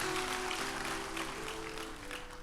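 Steady applause from a church congregation, fairly distant and even, sustained throughout with a faint musical drone underneath.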